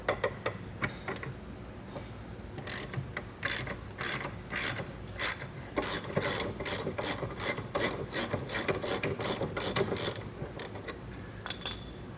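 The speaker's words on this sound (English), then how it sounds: "it's a good idea to remove the receiver portion of the hitch. We need this off of here when we go to reinstall our fascia. This is going to take a 15/16 socket" Ratchet with a 15/16 socket unbolting the trailer hitch receiver on a 2018 Tesla, first slow separate clicks, then a long run of rapid, steady ratcheting, close and clear without speech.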